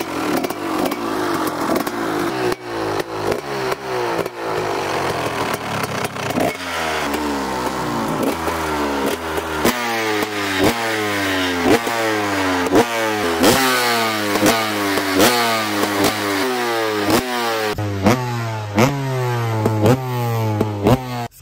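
A dirt bike engine revs repeatedly and loudly, rising and falling in a steady rhythm of sharp throttle blips, close by with no talking.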